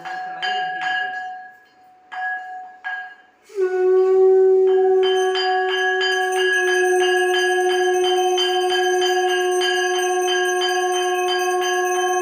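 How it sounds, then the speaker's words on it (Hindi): A prayer bell rings through a Satyanarayan katha, starting with a few separate metallic strikes, then settling into a long, loud, sustained ringing that dominates the scene. "प्रेम सूर्य श्री सत्यनारायण भगवान की प्रथम घंटी बजाइए।"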